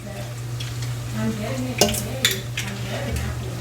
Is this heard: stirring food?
yes